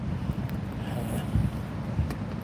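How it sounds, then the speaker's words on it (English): Strong wind at a night-time fishing spot by a five-bar gate, a steady low rumble buffeting the microphone with gusts swelling now and then, no voices. "God, it's windy as hell tonight."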